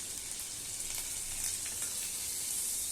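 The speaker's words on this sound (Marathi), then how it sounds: "आता त्याच पॅनमध्ये मी थोडं तेल वाढवलं आहे, 1-2 चमचे, आणि अख्खा गरम मसाला घालायचा आहे." Whole garam masala of cinnamon and cloves sizzles in hot oil and butter in a pan, a quiet, steady crackling hiss with no voices.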